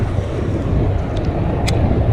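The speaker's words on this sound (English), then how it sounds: "It's really windy and it's clear" Wind blows steadily across a lake on a clear day while bass fishing, a continuous low rumble buffeting the microphone with no talk over it.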